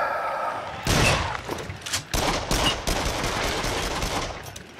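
Repeated shotgun blasts from the Until Dawn: Rush of Blood VR shooter, a loud broadband burst opening a rapid run of overlapping shots with rumbling booms that continue steadily for several seconds.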